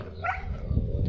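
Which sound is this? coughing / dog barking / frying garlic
dog barking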